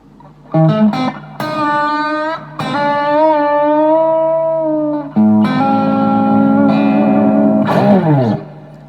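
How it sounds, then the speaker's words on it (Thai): A 1977 Japanese Tomson vintage electric guitar plays loud, ringing chords and bent notes through an amp with a touch of reverb, each strum sustaining for a couple of seconds before the next. "รีเวิร์บนิดเดียวนะครับ"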